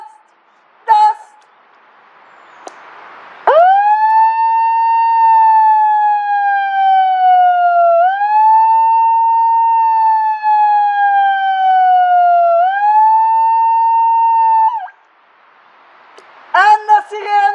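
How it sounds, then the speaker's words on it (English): A HQ Megaphone20 siren runs at full volume, a loud, steady wailing tone that slowly falls and rises for about eleven seconds, with brief voice sounds just before and after. "And the sirene test!"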